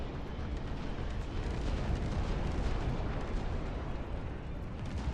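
Battle in the RTS game Dust Front, with a dense, continuous wash of gunfire and explosions that stays loud and unbroken throughout, no voices.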